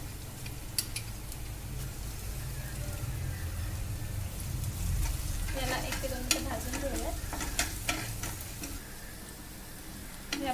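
Onion frying in a pan with ginger, garlic and cumin paste, a steady close sizzle with scraping stir strokes and scattered utensil clicks throughout, no talking.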